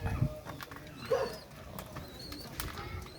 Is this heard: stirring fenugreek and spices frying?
no